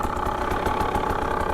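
A 2025 KTM 300 XCW Champion Edition two-stroke dirt bike idles close by, its engine putting out a steady, slightly uneven burble with no talk over it.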